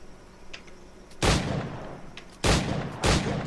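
Firearm shots fired in Assassin's Creed Black Flag, three loud, sharp reports spaced unevenly, each ringing out with a short decaying tail over quiet background ambience.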